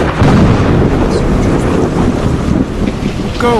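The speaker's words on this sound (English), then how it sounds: "Suddenly, the rain turned into a violent storm. Thunder exploded above us." Heavy, continuous rumble of thunder in a violent rainstorm, loud and wind-buffeted throughout, with a brief high whistle near the end.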